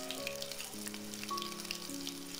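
Sliced green chillies fry on a medium flame in a pan for a kasuri methi potato fry, giving a soft, steady sizzle with faint crackles and a few sustained tones underneath.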